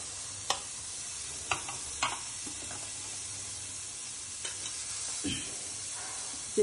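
Onions and green chillies fry dry without oil in an AMC cookware pan, a soft steady sizzle broken by several quiet clicks and scrapes of a stirring spoon.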